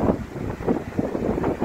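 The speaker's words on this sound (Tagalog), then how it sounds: "Malakas na hangin ang nararamdaman ngayon dito sa Doha, Qatar" Strong gusting wind in Doha, Qatar, with trees moving, roaring as a steady broadband rush with buffeting against the microphone and no talk.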